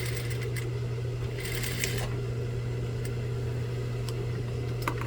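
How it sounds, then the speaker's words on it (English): A sewing machine stitches along the edge of a reversible vest, giving a steady low mechanical hum with faint intermittent clicks, close and continuous with no talking. "So I gotta sew this one as well."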